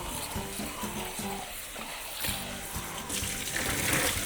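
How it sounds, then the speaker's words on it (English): Tap water runs steadily to rinse fresh jalapeños and cilantro while making salsa, a continuous close-up splashing stream that swells louder toward the end, with light kitchen clatter underneath and no talking. "I'm gonna rinse off the jalapenos and the cilantro"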